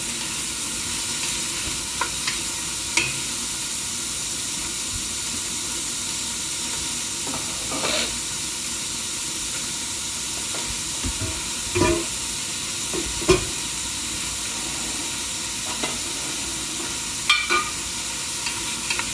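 Seafood gumbo ingredients with onions sizzle steadily in a pot while a utensil stirs through them, with scattered scraping clicks over a constant frying hiss and no talking.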